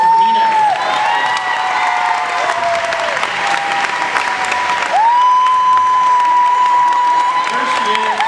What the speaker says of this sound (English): could we give a round of applause and welcome Nina?